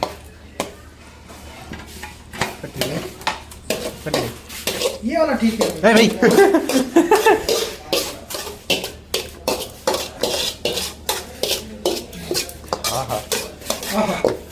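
Chicken sukka is scooped into a pan to make gravy, with close, steady metal spoon scrapes and clanks against cookware in a quick rhythm throughout. Someone speaks briefly.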